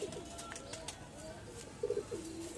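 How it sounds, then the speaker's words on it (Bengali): Cooing from a pair of old-breed red Napta pigeons kept for tournament flying, heard as faint low coos near the end over a quiet background with a little indistinct murmur. "পুরান জাতের নাপ্তা কবুতর"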